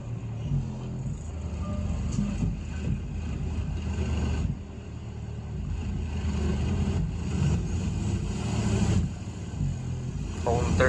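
A car's engine idles with a steady low rumble, raised slightly during a voltage test of a Down4Sound LTO 6.0 battery bank with OFC wiring; the drone stays constant and close throughout.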